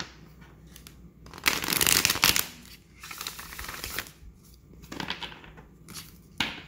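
Tarot cards being shuffled and pulled by hand, a series of close, crisp riffling bursts of varying length with brief pauses between, no voice present.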